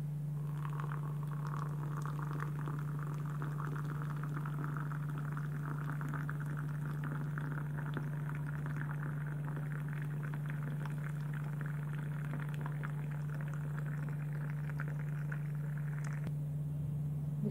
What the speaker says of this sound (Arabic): هبدا بقى انزل بالميه السخنه بتاعتي